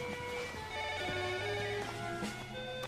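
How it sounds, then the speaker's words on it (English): A telephone on a private line aboard a ship rings with a steady electronic tone, repeating continuously and fairly loud against a low background hum. "do you want me to get that phone for you?"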